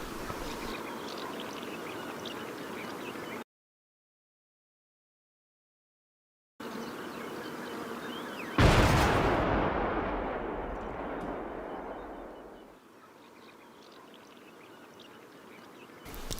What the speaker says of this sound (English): we're waiting for the drone to come in and strike